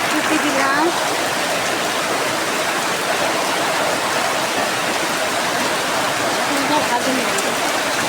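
Heavy rain pouring steadily and loudly, a dense continuous hiss and patter that fills the whole scene, with faint voices barely audible beneath it.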